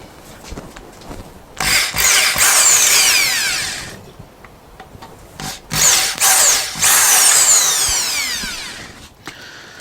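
A power drill with a bigger bit runs in two long bursts separated by a pause, whining and grinding as it bores through material on a Moto Guzzi motorcycle rebuild, close and loud.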